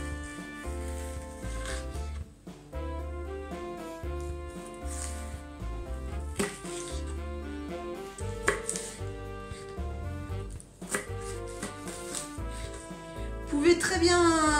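A knife cuts leeks and carrots into thin strips on a board, giving repeated chopping taps under background music while a person talks.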